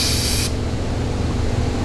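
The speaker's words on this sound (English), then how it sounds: "I'm gonna spray all this stuff off with brake clean so it gets nice and clean" Brake cleaner aerosol blasts onto LS engine lifters in one loud, steady hiss for about half a second, then cuts off, leaving a low background hum.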